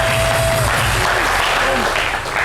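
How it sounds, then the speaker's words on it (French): Studio audience applause fills a French television variety show set, dense and loud, holding steady throughout before easing slightly at the end. "ns reçu sur ce plateau Mimi Blonde, que je vous demande d'applaudir."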